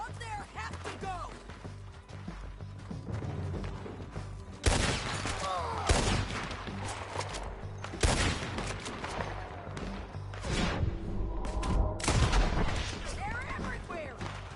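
Heavy gunfire erupts in Red Dead Redemption 2, with loud booming shots and volleys at irregular intervals amid a chaotic firefight, while characters shout and talk throughout.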